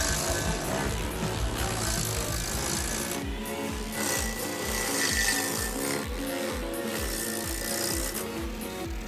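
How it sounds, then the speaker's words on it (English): A Clue SG1SW tree stump grinder, an attachment on a 9-ton Takeuchi excavator, grinding tree stumps with a steady rough mechanical roar and rapid rhythmic low thumping that carries on without a break. "the Clue SG1SW tree stump grinder can effectively grind tree stumps of different sizes"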